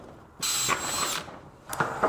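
A power drill drives red barn screws with rubber washers into a metal barn wall, a loud sustained whine lasting under a second, then a second short burst close by.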